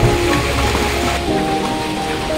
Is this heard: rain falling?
yes